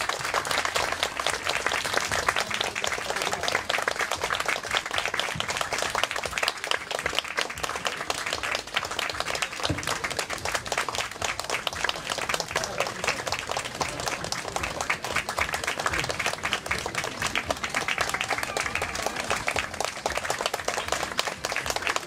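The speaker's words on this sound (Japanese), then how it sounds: "皆さん盛大な拍手でお迎えください。" A crowd claps loudly and steadily to welcome the models in upcycled dresses and boro, along with the designer, at an ethical fashion show at a historic site. The dense applause runs for over twenty seconds without a break.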